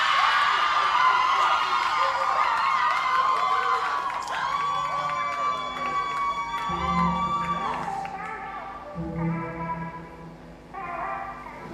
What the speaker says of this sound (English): They've been cheering all evening, and I think they're going to cheer some more.